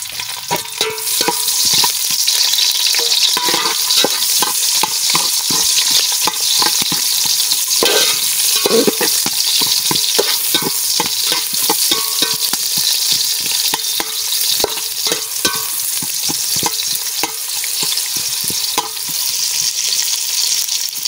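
Whole cinnamon, cloves, cardamom, nutmeg and star anise fry in hot oil in a pan for jackfruit biryani, a steady loud sizzle with repeated clicks and scrapes of stirring throughout, no voices.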